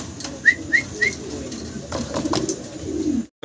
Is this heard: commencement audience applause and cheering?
no